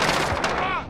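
A loud gunshot rings out in the video game Call of Duty: Modern Warfare, a single sharp blast with a short ringing tail, close and dominating, amid game audio.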